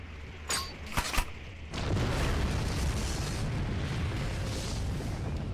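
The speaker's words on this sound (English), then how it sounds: "They break and scatter, explosions at their heels." Grenade blasts in a combat scene: two sharp booms in quick succession, then a sustained rumbling roar of blast debris and noise that runs on to the end, with no voices.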